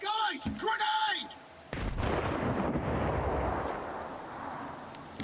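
In the video game Stalker 2: Heart of Chornobyl, a grenade goes off as a sudden loud blast followed by a long rumbling decay. A voice speaks briefly just before it.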